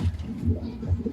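A pigeon coos close by in a steady repeating rhythm, three soft low calls in quick succession with no talk over them.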